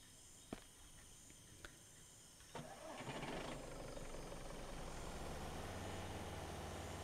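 In the survival video game Mist Survival, a few clicks are followed by a car engine cranking and catching, then settling into a steady running drone as the vehicle moves off, with insect chirping in the background.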